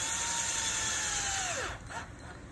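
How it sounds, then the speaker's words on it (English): A cordless power drill slowly drives screws into a trolling motor plug mount, its whine gliding down in pitch as the screw seats, then cutting off, close and alone without talk. "I'm gonna tighten these down slowly with my drill here."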